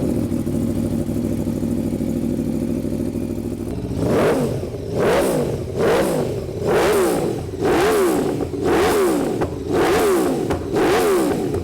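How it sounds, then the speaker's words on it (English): A 2021 Aprilia Tuono V4 Factory motorcycle engine idles steadily, then revs hard again and again in a repeating rhythm of rising and falling bursts, loud and close. "This is the best sounding engine in all of motorcycling"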